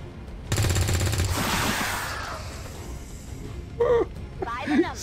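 Rapid automatic gunfire aimed at an alien in XCOM 2, a loud burst of about a second, then whooshing decay and scattered brief effects, with voices faintly under it.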